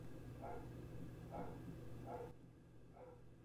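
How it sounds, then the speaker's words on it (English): A pet dog barks indoors at home, four evenly spaced muffled barks about a second apart, distant and fairly faint over a low steady hum. "Oh, my dog's barking."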